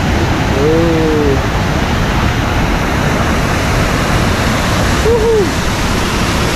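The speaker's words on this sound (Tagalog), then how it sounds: "Yan, yung falls." Steady, loud broadband rush of a waterfall heard up close, filling every moment without a break, with brief faint whistle-like tones drifting over it twice.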